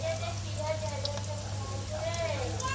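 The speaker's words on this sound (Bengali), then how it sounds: "এই চুলা একটু পাকোড়া ভেজে নিচ্ছি বাঁধাকপি দিয়ে বানানো পাকোড়া" Cabbage and chicken pakora fry in oil on a stove with a loud, continuous sizzle and crackle close by, while a voice talks over the frying.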